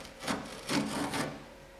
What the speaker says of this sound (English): I'm gonna pull my tape off here